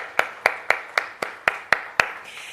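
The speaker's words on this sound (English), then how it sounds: "A round of applause for all our sponsors, please" Around eight slow, evenly spaced claps ring out at a Jamaica diaspora conference launch, each sharp and distinct like a single person or small group clapping in rhythm, with a faint room murmur between.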